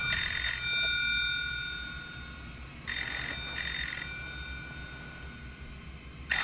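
A bell in a short horror film rings in repeated bright metallic bursts, a few seconds apart, over a steady low background hum.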